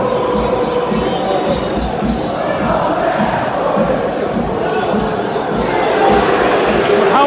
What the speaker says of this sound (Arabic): الجماهير كتواصل بطبيعة الحال تشجيع